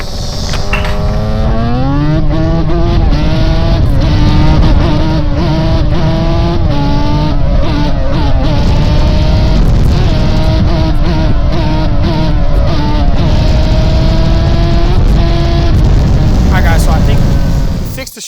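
A Kawasaki Z400 ATV engine runs loud and close throughout, revving up and down with rising and falling pitch as it shifts through gears, a rider's voice occasionally over it.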